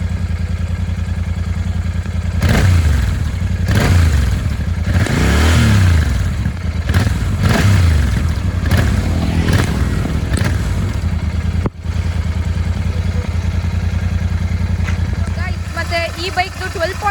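A Royal Enfield GT650 motorcycle engine runs steadily with a low, throbbing idle and a few revs partway through, while someone talks over it.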